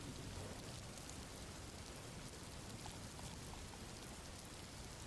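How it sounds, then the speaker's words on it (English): Soft rain falls in a steady, even hiss with no breaks, a quiet continuous patter that fills the whole moment without any voices. "Soft rain hits different."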